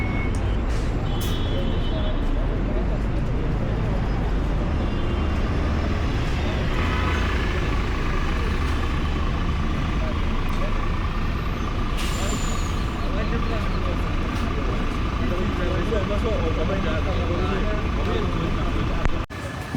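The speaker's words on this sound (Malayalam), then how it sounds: "അതിനുശേഷം അതേ ആ ബസ് ഹോൾഡ് ചെയ്ത് നിന്ന അതേ സ്ഥലത്തേക്ക് അടുത്ത ബസ് കൂടെ ഇപ്പോൾ വന്ന് കയറും." A bus pulls into the Al Baraha bus stop in Dubai, its heavy engine rumbling steadily and close, with a hiss of air brakes, under street noise and a person talking throughout.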